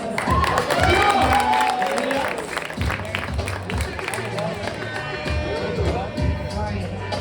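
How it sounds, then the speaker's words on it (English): A poetry-event audience in Los Angeles applauds with cheering and crowd murmur, a dense, sustained wash of clapping and voices that stays steady for the whole stretch. "One more round of applause."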